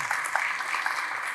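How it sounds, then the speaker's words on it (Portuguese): An audience at a creative-industry mapping launch event claps for the workers who produced it, a moderate, even patter of applause with a few crisp individual claps poking through. "eu queria pedir palmas para eles"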